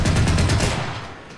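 A BMP-2's 30mm autocannon fires a short, very rapid burst of heavy thudding shots in a video game, fading into a brief echoing tail.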